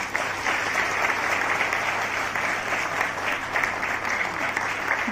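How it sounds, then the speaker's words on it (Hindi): Steady applause from a large audience at a light, sound and laser show in Bhilai, welcoming a bishop as an honoured guest, sustained and even throughout with no voices over it. "Doctor Victor Henry Thakur bishop Swami ji का हम तहदिल से तालियों के साथ स्वागत करते हैं।"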